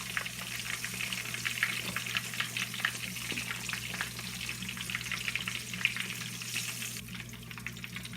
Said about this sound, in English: so that I can press them and put them into the oil